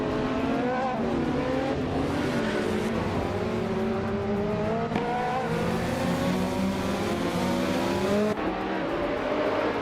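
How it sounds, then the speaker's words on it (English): Race cars in a racing video game at the start at Circuit Gilles Villeneuve, one a 2023 Ferrari 360, drone loudly in a dense field of engines, with revs climbing and shifting steadily throughout. "the race is underway at Circuit Gilles Villeneuve"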